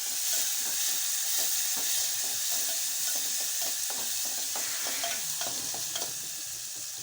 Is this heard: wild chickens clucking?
no